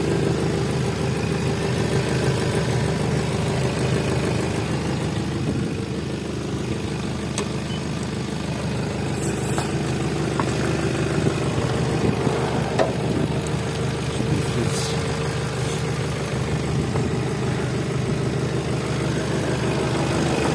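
A car engine idles steadily with a low, even hum that holds constant throughout, with no talking.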